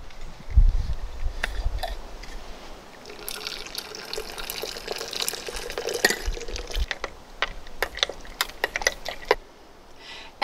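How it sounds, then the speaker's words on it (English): Hot water is poured into a mug of bone broth elixir, a soft trickling pour with light clinks and small taps around it, close and fairly quiet, trailing off near the end; no talking. "And then I'm gonna add some hot water."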